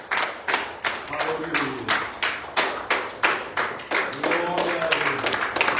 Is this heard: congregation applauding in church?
yes